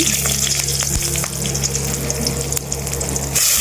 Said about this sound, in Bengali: তেলটা গরম হয়ে গেলে তেজপাতা দিচ্ছি, কাঁচা লঙ্কা দিচ্ছি।